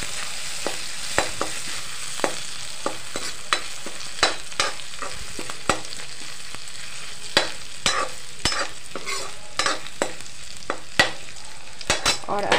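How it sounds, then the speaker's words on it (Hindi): Homemade wheat-flour pasta stirred in a pan, a regular run of sharp spatula scrapes and clicks over a light steady sizzle, close up with no talking. "थोड़ा सा इस तरह से चला लेते हैं।"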